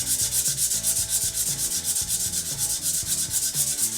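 Sandpaper rubbing a spinning turned wooden stool leg held in lathe jaws, a steady loud rasping hiss with a rhythmic pulsing from the rotation, continuous throughout with no talking.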